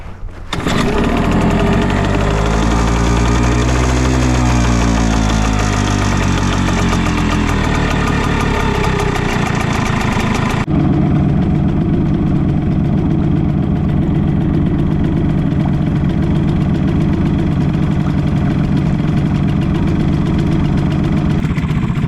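A loud Hangkai 6 hp outboard boat motor runs continuously, its pitch shifting early on before settling into a steady, lower throttled drone while trolling for fish.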